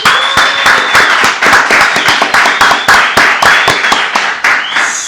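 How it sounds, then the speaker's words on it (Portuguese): Audience applause greets a guest on a podcast, loud, dense clapping that runs steadily for the whole stretch with sharp individual claps standing out. "Para apresentar esse convidado de hoje, eu vou pedir uma salva de palmas para Lucas Monteiro."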